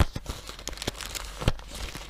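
Crinkly paper surprise packets being handled close up, a string of crisp crackles and rustles with a few sharper crunches.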